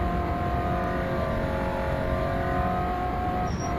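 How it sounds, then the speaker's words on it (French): A BTCC touring car engine in the rFactor 2 racing game, a steady loud high-revving drone with a sustained engine tone, close and continuous. "Il faut bien monter dans les tours ici, pour taper la cinquième"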